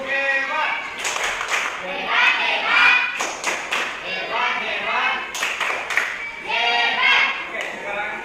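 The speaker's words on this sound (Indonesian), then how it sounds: "Oke, tepuk hebat." A group in a classroom training session performs a rhythmic clapping cheer. Bursts of claps are mixed with voices chanting together in unison, loud and close.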